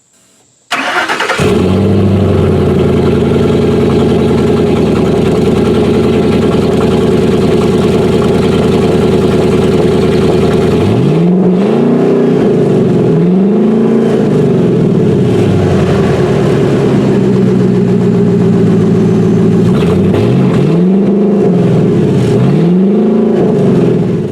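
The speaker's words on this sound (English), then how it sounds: "start the truck when I got the exhaust off, just in case you want to hear what it sounds like with no muffler." Ford Super Duty 6.2 truck with its exhaust removed and no muffler starts up, settles into a loud, raw idle, then is given several short revs in two pairs.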